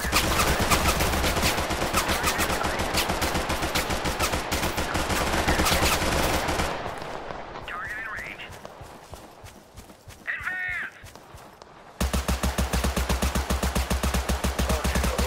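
Rapid automatic gunfire in the video game Total Conflict Resistance, loud and sustained for several seconds, dropping away briefly before resuming in dense bursts.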